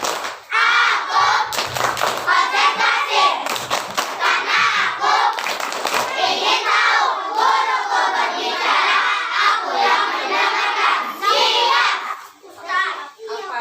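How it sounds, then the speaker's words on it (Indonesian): A crowd of children at a school religious gathering in Indonesia do a rhythmic concentration clapping routine, chanting loudly together over continuous hand claps, with the crowded sound dropping off near the end. "Coba kita tepuk konsentrasi dulu boleh? Tepuk konsentrasi."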